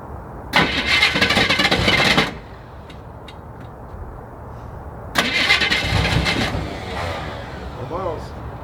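A 1973 Chevrolet Camaro is cold-started twice, each time a loud grinding starter crank of a second or two, with the engine sputtering briefly before settling toward a rough idle. A voice is heard in the quieter stretches.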